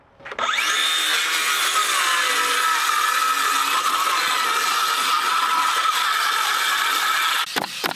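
A circular saw set to about half-inch depth spins up and rips along the top of a wooden gable framed on the ground, a loud sustained close whine lasting several seconds before stopping, followed by a couple of knocks.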